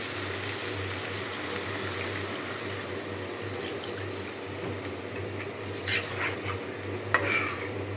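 Chopped tomatoes hitting frying masala, with a continuous close sizzle and hiss, a low steady hum beneath and a couple of sharper stirring clatters near the end.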